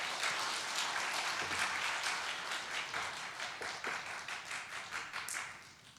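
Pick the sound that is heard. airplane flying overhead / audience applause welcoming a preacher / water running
audience applause welcoming a preacher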